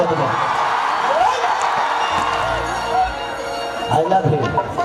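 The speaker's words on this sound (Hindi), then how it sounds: "एक जोरदार हल्ला करके ताली बजा दो सबके स्वागत में" Crowd at a Khesari Lal Yadav stage show in Nepal, cheering and whooping loudly throughout with scattered shouts and a few rising yells, a dense, noisy audience roar that stays steady.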